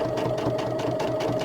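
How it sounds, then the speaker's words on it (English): A sewing machine runs steadily while stitching a quilted snowman wall hanging, a close, even mechanical hum with rapid needle pulses and no talk. "And then we're going to turn and keep sewing down to our next"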